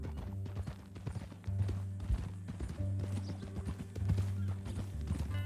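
Horse hooves clip-clop at a steady walking rhythm in Red Dead Redemption 2, fairly quiet and close, over a low droning game background with no speech.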